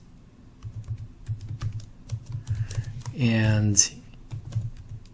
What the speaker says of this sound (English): So I could put in that text, just type it out,